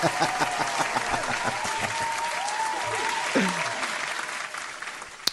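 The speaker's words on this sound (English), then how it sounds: "let's go ahead and give him a round of applause" Studio audience applause following a talk segment on the government shutdown, a steady, dense wash of clapping from a crowd that holds through the clip, with a brief voice heard under it.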